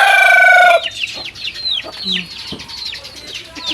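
A rooster crows loudly up close, then chickens cluck and chatter in scattered bursts around a small shelter being built for the flock, with newly arrived birds among them.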